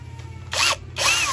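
A Hitachi 48V brushless cordless drill with a roofing-screw bit gives two short, close whirring bursts, each with a rising and falling motor pitch, separated by a brief pause over a low background hum.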